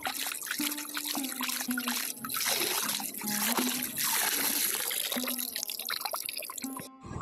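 Drumstick flowers being rinsed in pond water at a pond-side bathing spot: continuous splashing, trickling and dripping water up close, with a steady tonal hum underneath and no speech.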